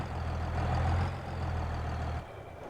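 A tractor in Farming Simulator 22 idles with a low, steady diesel rumble, then drops off near the end.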